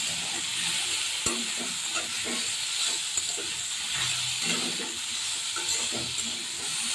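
A spoon stirs chalta (elephant apple) chutney with salt, turmeric and red chilli powder in a pan, producing rhythmic scraping strokes over a soft, steady sizzle, close and unaccompanied by talk.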